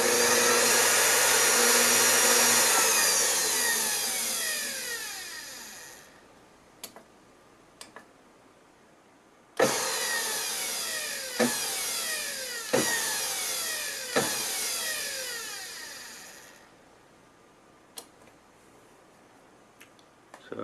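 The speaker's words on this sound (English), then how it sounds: "so the blender is back together and we can try it out." A repaired KitchenAid Ultra blender runs with a loud motor whine that winds down and stops, then starts again for several seconds with a few sharp clicks before winding down once more.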